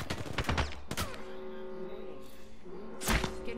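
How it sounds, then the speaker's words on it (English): Gunfire in the Apex Legends video game: a few sharp bursts of shots near the start and again just past three seconds, with a steady humming tone and game noise between them. "Getting shot at."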